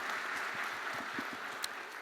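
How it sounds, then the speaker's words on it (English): Audience clapping for a panel at a fashion forum session, a dense, moderately quiet patter of many hands that holds steady throughout without voices. "a round of applause for the panel."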